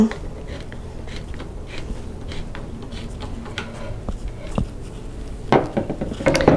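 Wooden parts of a loom stand are screwed together by hand, giving soft scraping and rubbing with scattered small knocks and clicks, close by and low in level.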